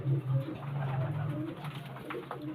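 Pigeons at a pigeon seller's stall coo in low, rolling calls, several overlapping birds repeating their throaty murmurs steadily and close by.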